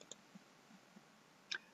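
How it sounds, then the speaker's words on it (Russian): A computer mouse button clicked a few times while working in Cinema 4D sculpting, faint sharp ticks against quiet background hiss. "Щелчок левой кнопкой мыши"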